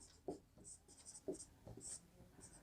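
A pen scratches across paper in a few quick, close strokes as a maths solution is written out by hand, with soft taps and pauses between the marks.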